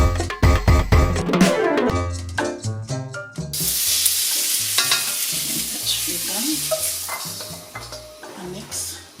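Stir frying in a wok for beef chow fun: a utensil clatters and scrapes against the pan while oil sizzles steadily and loudly beneath.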